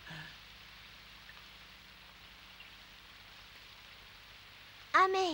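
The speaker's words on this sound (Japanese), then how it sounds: "雨やまんかね。" Steady, soft rain falls in the background, a faint continuous hiss of drops on surfaces with a brief louder sound near the end.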